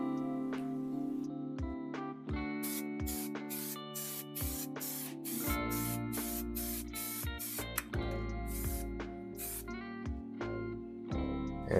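A third coat of spray paint hisses onto a car sun visor from a 1970 Plymouth Custom Suburban, in repeated short bursts over steady tonal music in the background.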